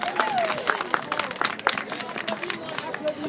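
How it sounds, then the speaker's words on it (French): A crowd of Ivorian supporters of Laurent Gbagbo gathered in The Hague claps and cheers, the scattered applause and crowd noise running under someone speaking loudly over it. "Applaudissez-vous vous-même."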